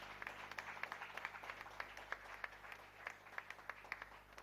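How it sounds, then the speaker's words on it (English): A small audience at a performance event claps, a sparse, distinct pattern of individual hand claps repeating irregularly, faint and distant with no talk. "Please give them a round of applause."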